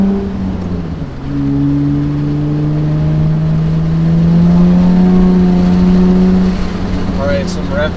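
A Honda Accord V6 with an aggressive aftermarket exhaust, pulling away slowly from a takeoff with clutch slip, its loud, deep exhaust note rising steadily as it accelerates close by.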